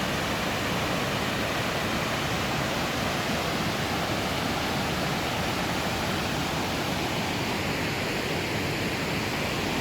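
Water rushing over Wawa Dam in Montalban, Rizal: a loud, constant broadband roar of falling water, steady and unbroken throughout with no voices.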